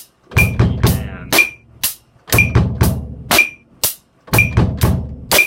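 Repeated 1-e-and rhythm on a bass drum: three sets of sharp, loud hits with a slight metallic ring, evenly spaced groups played close with no speech.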